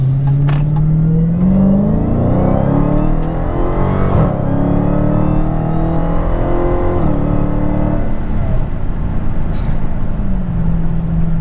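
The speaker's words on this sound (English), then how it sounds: "I'm gonna give it a little bit of gas." A Dodge Challenger Hellcat accelerating hard, its loud engine note climbing steadily in pitch through a sustained rev with a brief shift, close and continuous with no talk.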